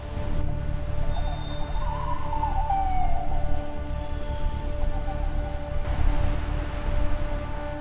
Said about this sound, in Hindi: मेरी कलाई पर हथकड़ी लगने से पहले वो एम्बुलेंस यहां से गुजरेगी।